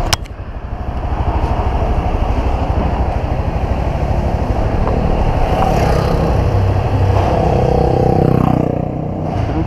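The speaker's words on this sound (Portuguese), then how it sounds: "O carro não para de passar, não." Steady road traffic on a busy street in Franco da Rocha, with engines rumbling and revving as cars pass continuously at close range, a loud constant wash of motor noise with no talk.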